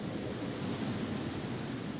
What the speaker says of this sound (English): Waves crashing and just birds a-chirping.